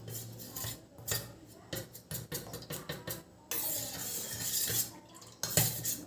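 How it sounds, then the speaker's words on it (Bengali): A spoon stirs cornflour into water in a small bowl at home, giving repeated light clinks and scrapes against the dish in uneven bursts, close and fairly quiet. "ভালো করে কিন্তু এই জলের সঙ্গে কর্নফ্লাওয়ারটা আমি গুলিয়ে নিচ্ছি"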